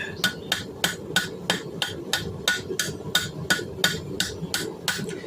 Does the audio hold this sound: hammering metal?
yes